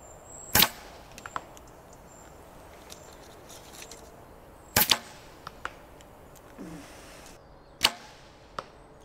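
Arrows released from a bow on an outdoor 3D archery course, each shot from 50 metres as a sharp, isolated snap; three distinct releases spaced several seconds apart over a quiet outdoor background.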